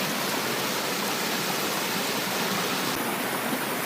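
Steady rushing water flows continuously, a dense broadband wash like a stream or small cascade, close and unchanging.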